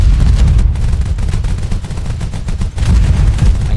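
A warship in the naval video game Age of Water opens fire, sending dense rapid bursts of gunfire and booms in a loud, continuous barrage with one brief gap.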